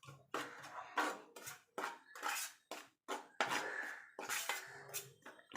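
Eggplant is being stirred together with spices and poppy seeds in a dish, producing a series of short scraping, clinking bursts of utensil against the dish, separated by brief pauses, close and clear.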